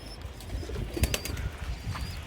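Pigeons at a home rooftop coop flap their wings in several quick, close bursts, with soft chirps and faint coos mixed into a steady background.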